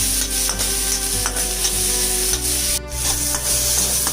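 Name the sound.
curry paste ingredients lightly frying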